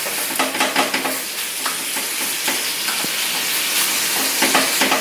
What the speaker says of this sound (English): just get the tomato juice to start cooking on me